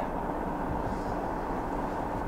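A CSX intermanifest freight train passes close by, giving a steady, loud low rumble of rolling cars and wheels that stays constant throughout, with no talking.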